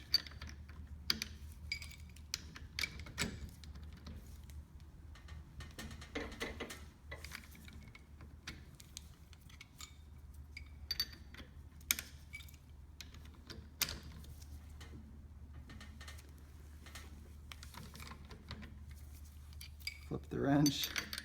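A wrench turning in quarter-turn steps while a handguard is installed on a CZ Scorpion; faint, sporadic metallic clicks and ticks over a low hum, close by, with a voice speaking intermittently.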